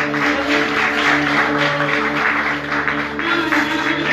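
An audience applauds at a live Cretan mantinades music event, a fairly close wash of clapping that rises and falls over sustained instrumental tones.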